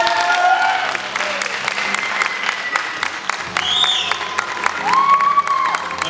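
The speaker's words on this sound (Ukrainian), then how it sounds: "Підтримаємо оплесками." Audience applause fills a school awards ceremony as participants are called onstage, a steady dense patter of many hands, with brief whistle-like tones above it.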